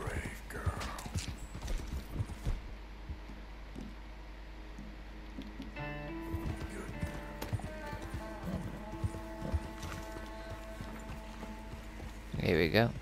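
Horse hooves clip-clop at a steady walking pace in Red Dead Redemption 2, over a quiet background, with a person talking now and then.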